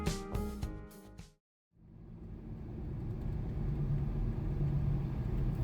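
Steady low rumble inside a moving passenger train travelling toward Madinah, a continuous muffled drone building after a brief burst of music and a moment of silence.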